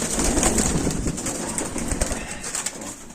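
Baku fighting pigeons cooing close up in a loft, soft low throaty coos repeating under flutters and rustling, steady and fairly loud with no talking.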